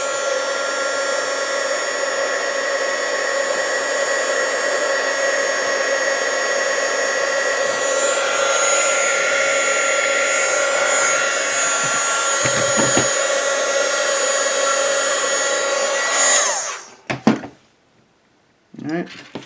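A heat gun blows steadily and loudly at close range while shrinking heat shrink tubing over wires, a continuous whooshing hum for about sixteen seconds before cutting off, followed by a few handling knocks.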